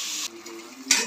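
Green chilies sautéing in a pan for fish biryani give a short burst of close sizzling, then a quieter hiss and a second sharp flare of frying noise at the end.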